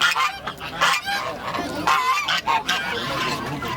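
Geese at a bird market in Turkestan honk loudly and close in a rapid, overlapping series of harsh calls, with no break in the clamour.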